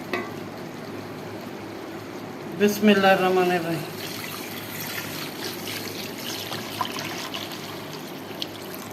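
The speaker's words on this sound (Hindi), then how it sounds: "उससे डबल जो है पानी, वो इसमें हम शामिल करेंगे।" Water pours into a cooking pot for chicken pulao with soaked rice, a brief splashing gush in the middle after a spoken phrase, the rest quiet room tone.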